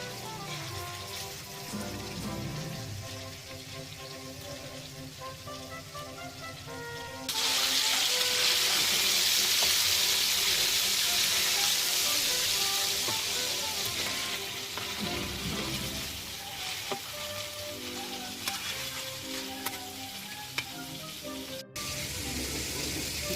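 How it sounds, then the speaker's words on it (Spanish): Chicken and rabbit meat dropped into a hot paella pan for Valencian paella: quiet cooking noises first, then a sudden loud hissing sizzle that stays strong and gradually settles while continuing throughout. "Echamos el pollo. Y la carne de conejo."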